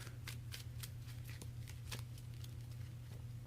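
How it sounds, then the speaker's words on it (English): A Pokémon trading card deck is shuffled by hand, with a series of quick, soft riffling bursts and card flicks in a rapid, uneven rhythm, fairly quiet and close. "let's get this all shuffled up"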